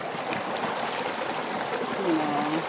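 A clear flowing stream in a rural province setting, a steady rushing burble close by, with a faint voice-like tone briefly rising near the end.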